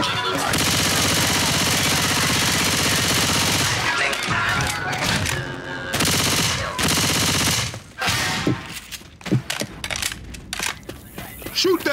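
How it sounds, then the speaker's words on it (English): In the Left 4 Dead video game, sustained rapid gunfire roars loudly, then breaks into scattered single shots and impacts as the shooting thins out, with voices speaking at times. "Shoot that zombie in the back."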